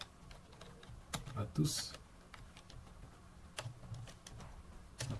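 Fingers type a note on a computer keyboard, quiet irregular key clicks and taps scattered across the moment, with a brief burst of spoken words partway through.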